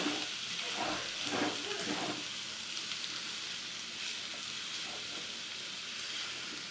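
Red amaranth greens frying in a pan make a steady loud sizzle and hiss, with occasional stirring scrapes early on.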